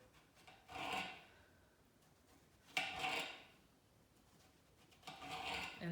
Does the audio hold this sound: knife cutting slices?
yes